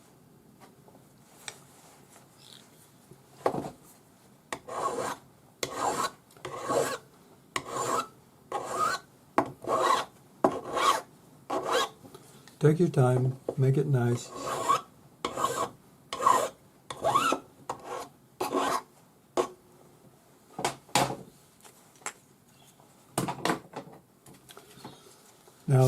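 Hand file rasping along the edge of a silver Navajo-style adjustable ring, a long series of steady back-and-forth strokes in close bursts, with brief pauses and a short spoken remark between passes.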